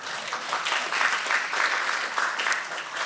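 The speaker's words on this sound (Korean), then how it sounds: "이 정도 되면 박수 나와야 되는데" Brief audience applause at a Korean science and technology gathering: a dense, even patter of many hands clapping, moderately loud and alone.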